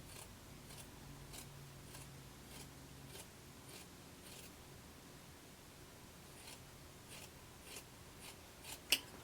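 Scissors snip through fabric in a quiet sewing room, a sequence of short, crisp cuts spaced irregularly, trimming a seam allowance down and clipping curves, with a sharper snap near the end.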